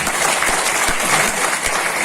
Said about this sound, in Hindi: एक बार जोरदार तालियां दिवाकर सर के लिए।